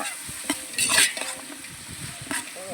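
Chicken biryani gravy being stirred in a pot over an outdoor village fire at night, with a steady sizzle of frying and scraping strokes of a ladle against the pot, a few sharper clanks standing out near the start.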